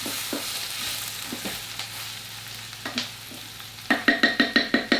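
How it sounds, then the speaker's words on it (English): Beef brisket sizzles gently in a heated slow cooker, with scattered clinks and scrapes of stirring, then a run of rhythmic tapping knocks near the end. "You can actually hear my slow cooker sizzling where it's been heating."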